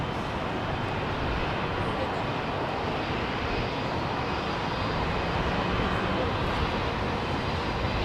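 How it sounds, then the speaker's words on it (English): Continuous broadband roar of a Boeing 777 jet on a full-length takeoff roll from Heathrow, steady and loud throughout, with people talking over it. "This is a full-length departure for this triple."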